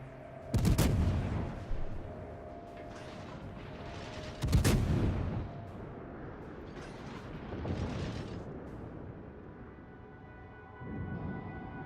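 Heavy naval guns from warships in World of Warships, including a Yamato battleship, fire in several booming salvos a few seconds apart, each with a sharp crack and a rumbling tail, loud and near.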